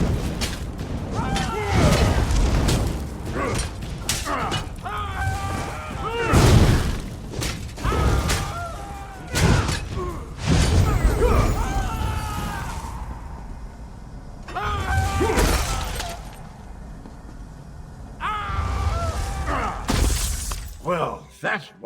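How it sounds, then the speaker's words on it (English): Glass balls shatter in a series of loud, crashing smashes with tinkling debris inside a fantasy role-playing game, Elder Scrolls Online: Elsweyr. The bursts come repeatedly over the whole stretch, and a voice speaks between some of them. "Try smashing these glass balls."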